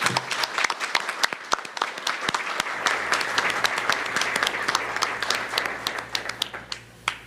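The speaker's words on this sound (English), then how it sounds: "Please join me in a round of applause for our candidates this evening." Audience applause for school board candidates at a League of Women Voters candidate forum, a dense run of many hands clapping that stays steady and fairly close for the whole stretch.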